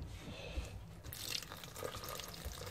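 Cold water runs and splashes into a soup pot for chicken and mushroom soup, a soft, close pour at low level with no talk.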